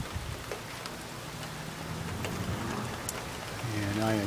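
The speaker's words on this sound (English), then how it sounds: "It is starting to rain in Hermiston now as we have thunderstorms moving into the area." Steady rain begins falling outdoors in Hermiston, Oregon, as a thunderstorm moves in, a continuous hiss of drops with a few faint background sounds near the end.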